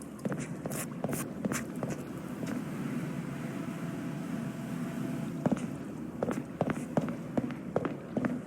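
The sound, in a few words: echoing footsteps in a pool area, from a video game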